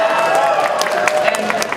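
Audience applause at a BronyCon 2014 panel rises in a dense, steady wash of clapping that fills the room, with scattered cheers and crowd murmur mixed in.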